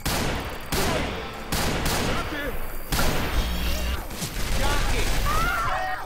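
Rapid bursts of gunfire from the Left 4 Dead 2 video game on the Swamp Fever campaign, close and loud in quick repeated volleys, with players talking over the shooting.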